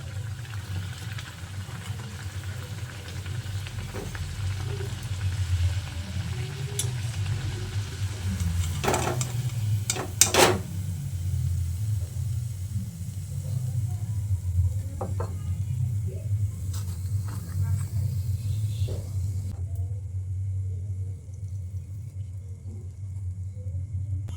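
Naan puri dough frying in hot oil as it puffs up like a ball, a steady low sizzle and bubbling throughout, with a few brief clinks and scrapes of a utensil partway through.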